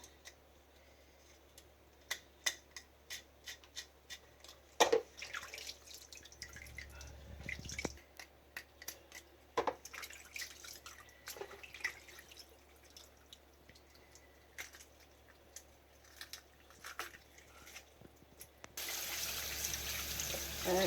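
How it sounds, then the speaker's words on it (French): Red snapper rinsed under running water in a kitchen gives scattered close drips and splashes, then a steady rush of water from the tap near the end. "Je lave bien mon poisson. I need to wash my fish."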